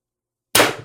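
A single sharp shot from an HPA airsoft carbine at 1100 psi firing an 11g round, following silence, loud and close, with a sudden pop that decays quickly.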